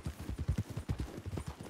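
Thoroughbred horse hooves clip-clop in the game RedM, a quick, even run of about a dozen soft thuds at a steady trotting rhythm, fairly quiet and with no speech.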